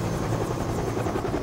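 A helicopter in the Jurassic Park: Trespasser video game drones close and loud, its rotor chopping in a steady, rapid pulse that fills the whole stretch with no talk over it.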